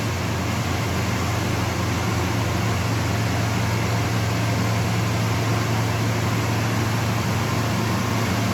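Inside a Pennsylvania beading wire factory, a wire stranding machine winds six spools of wire around a center wire, giving off a loud, constant droning whir and hiss with no talking.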